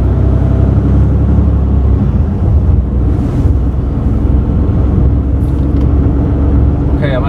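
A Mercedes-Benz Actros truck accelerates toward 30 mph ahead of a brake test, its engine a loud, steady rumble with road noise throughout, while people talk over it inside the cab.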